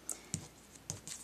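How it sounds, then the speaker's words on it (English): Paper being cut freehand with scissors while shaping a punch art angel, giving a few sharp, close snips spaced irregularly and heard alone with no talking. "So I'm just going to freehand cut it"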